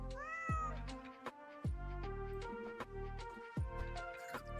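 Cartoonish cat meows from the video game Super Auto Pets: four or five clear, close, drawn-out meows in quick succession, some with falling pitch, alone without talk.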